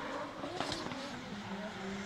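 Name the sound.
drift race car skidding on track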